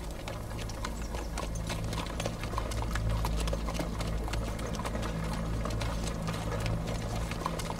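Horses' hooves clip-clop steadily throughout a ride in a historical Ottoman drama, a dense continuous patter over a low rumble with no voices.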